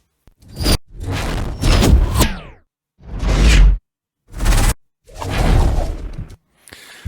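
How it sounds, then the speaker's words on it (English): Sound-design whooshes in an animated scene redesign: a series of loud, close swooshing bursts separated by short silences, rising in intensity and building toward a heavy impact. "whooshes here are used as a build up before an impact"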